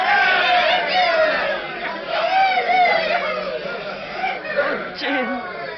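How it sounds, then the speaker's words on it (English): A radio-drama town crowd cheering and shouting in celebration, a dense wash of overlapping excited voices, whoops and chatter, loud and continuous throughout. "Look at them cheering and shouting."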